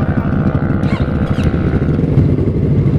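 A motorcycle engine runs at a steady, rough idle with low throbbing pulses before a casual street race at Meikarta, Cikarang, loud and close with no voices.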